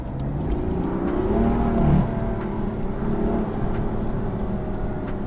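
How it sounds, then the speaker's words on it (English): Small RC cars race along a neighborhood street, their electric motors giving a steady, buzzing whine that swells and dips as they speed past, fairly close and continuous with no talking. "They're having a little RC car race."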